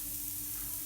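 Onions, with some mushrooms, sizzle steadily in hot oil for a pork stroganoff, a close, even crackling hiss with no talking.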